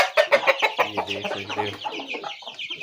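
Lasani chickens and a Lasani rooster cluck close by in a series of loud, choppy calls, with someone briefly talking over them.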